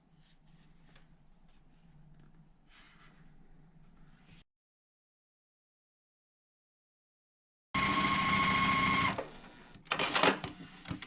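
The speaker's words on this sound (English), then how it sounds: "I'm just going to pick up the first two and sew those together." A home sewing machine stitches quilt block rows together, running in a loud, steady burst after a quiet pause, with a brief stop and a second shorter run; soft handling noise comes first.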